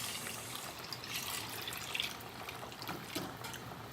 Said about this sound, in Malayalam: തേങ്ങാപ്പാൽ 1-ാം പാലാണ് ഒഴിക്കുന്നത്.